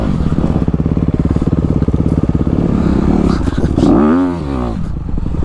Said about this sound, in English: Today I'm riding the 2020 Honda CRF 250 RX.